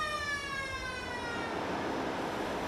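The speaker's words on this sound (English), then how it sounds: "Evacuate the engine room immediately on hearing the fire alarm" Engine room fire alarm aboard a ship, a steady electronic siren tone with several stacked harmonics, continuous and fairly loud for the whole stretch with no talking.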